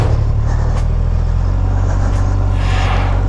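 A 2021 Triumph Rocket 3 GT motorcycle engine idles loud and close with a steady deep low rumble that holds throughout.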